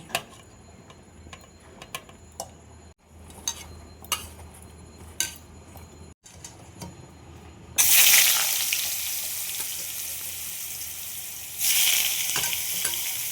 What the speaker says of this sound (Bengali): আমি এবার এটা টুকরো টুকরো করে কেটে ভেজে নেব